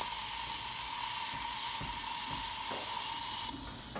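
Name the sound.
Saeco Espresso Classico espresso machine steam hissing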